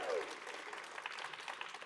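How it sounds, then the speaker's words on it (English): An audience at a live variety show applauds a co-host, with dense, steady clapping from a room full of people and a brief voiced call at the start. "Big round of applause for B."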